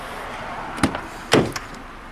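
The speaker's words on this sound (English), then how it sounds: "And the door shuts again, all nice" A Vauxhall Meriva Club 5-door automatic's rear door is shut, giving a sharp, solid thud with a lighter click before it and a small rattle after, close by and alone.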